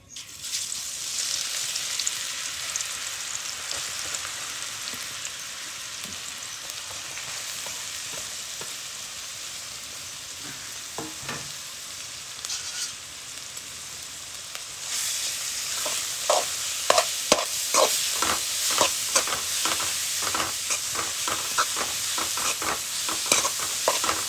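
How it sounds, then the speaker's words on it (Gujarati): Grated carrots fry in hot ghee for village-style gajar halwa, a steady close sizzle that grows louder and busier partway through as a spoon scrapes and stirs the pan in quick repeated strokes. "હવે આપણે ઘી ગરમ થઈ ગયું છે હવે નાખી દઈએ આપણે ગાજર"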